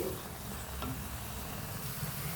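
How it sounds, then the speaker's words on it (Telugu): Spinach cooks in a pan with onion, giving a soft continuous sizzle and faint stirring, low and steady throughout. "మధ్య మధ్యలో కలుపుకుంటూ పాలకూరను ఉడికించుకోవాలండి"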